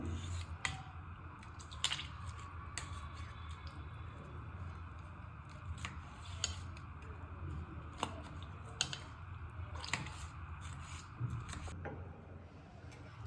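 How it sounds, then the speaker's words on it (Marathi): A knife cuts through a peeled roasted tomato for a Maharashtrian chutney, making faint, soft, wet clicks and scrapes repeated at an uneven pace, close by in a quiet room. "टोमॅटोचे मी आता साल काढलेले आहे। आता आपण याला कापून घेऊया।"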